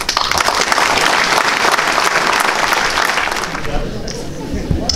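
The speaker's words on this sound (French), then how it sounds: "Et je propose d'applaudir tout ce personnel." At a mayor's New Year's greetings gathering in the town hall of Pleucadeuc, a crowd applauds the staff. The clapping is loud and dense, runs on steadily, then thins out and fades near the end.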